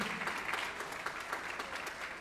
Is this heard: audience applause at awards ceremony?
yes